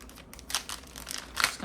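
Textured paper handled and crinkled during a junk journal supply unboxing, a few soft rustles and crackles in brief bursts, close and quiet.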